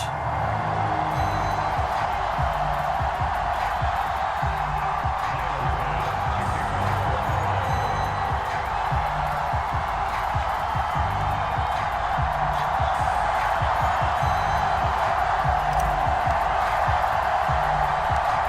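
A stadium crowd in Madden NFL 22 at Buffalo keeps up a dense, steady roar of cheering throughout, broad and moderately loud, with faint occasional whoops and no clear talk over it.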